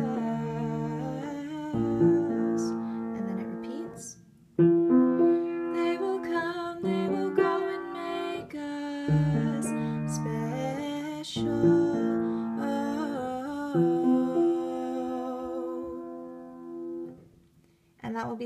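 Piano playing the chorus of a song with both hands together, sustained chords and a melody line in clear phrases, close and alone.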